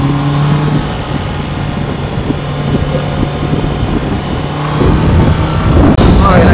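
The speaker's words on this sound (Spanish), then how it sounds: "va a 180, 150 y no siente la velocidad en esta moto" A Honda CBR 650 R motorcycle ridden at high speed, its engine a steady drone buried under heavy wind roar throughout, with a brief low hum early on.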